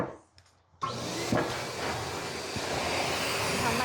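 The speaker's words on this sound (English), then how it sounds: "Turn the dryer on." Pet hair dryer switching on during grooming of a Morkie dog, a steady loud whooshing blow that starts abruptly after a brief quiet moment and holds constant nearby.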